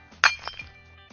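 A rock dropped from waist height strikes a glass bottle outdoors: one sharp, loud glassy clink and crack, a quick secondary knock, then brief rattling fragments fading into near quiet.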